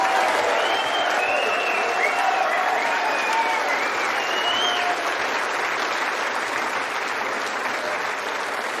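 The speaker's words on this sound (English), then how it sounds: "may we have a round of applause for an absolutely brilliant final" A large snooker audience applauds at length after a final between Ronnie O'Sullivan and Judd Trump, a loud, sustained wash of clapping with faint cheers and whistles mixed in.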